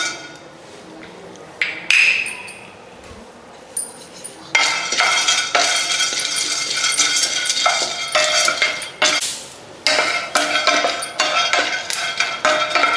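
Pumpkin seeds roast in a pan, giving off dense, loud crackling and popping with scattered sharp clicks and stirring clatter. A few faint taps come first, then the popping builds and carries on continuously.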